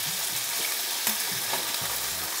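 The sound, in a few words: deep frying dry fish in oil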